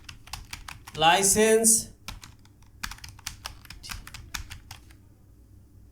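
Someone types code on a computer keyboard, quick bursts of crisp, close key clicks with short pauses, while a voice speaks briefly over the tapping.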